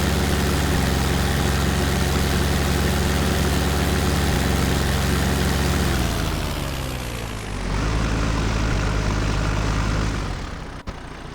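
A tractor engine in Farming Simulator 2015 drones steadily and loudly at a constant idle, then dips in pitch and level briefly before settling and cutting off near the end.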